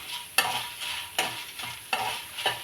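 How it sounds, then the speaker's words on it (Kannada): Dried red chilies roast in hot oil in a pan for Iyengar-style puliyogare powder, with a soft continuous sizzle broken by four scraping stirs at roughly even intervals, close up and without voices. "ಮೆಣಸಿನ್ಕಾಯಿನೂ ಚೆನ್ನಾಗಿ ರೋಸ್ಟ್ ಆಗಿದೆ"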